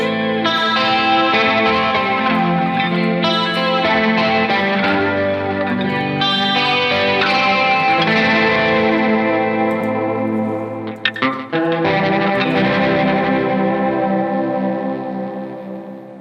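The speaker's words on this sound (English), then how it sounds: "If you want to have the jet flanger effect" Distorted electric guitar chords drenched in a sweeping, whooshing jet flanger effect placed after distortion, ringing out loudly with a brief pause before another sustained strum.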